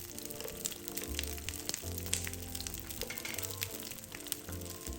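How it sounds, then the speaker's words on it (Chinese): Chinese chive kueh frying over medium-low heat in a little oil in a flat pan, a continuous crackling sizzle with light pops, close and steady; no talk. "平底鍋加入少許油，加熱，再放入冷卻後的無米果，中小火慢煎。"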